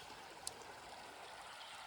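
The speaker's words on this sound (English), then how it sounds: "we are about to have an actual river crossing" Lick Creek flows steadily at a trail river crossing along the Appalachian Trail, a soft, continuous babble heard at a distance with one faint tick and no voices.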